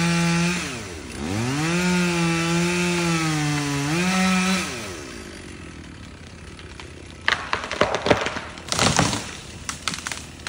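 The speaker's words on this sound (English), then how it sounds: "Large chainsaw." A large chainsaw cutting a tree revs loudly with its pitch rising and falling, then cuts off; afterward, cracking and snapping of the falling tree's wood follows in sharp bursts.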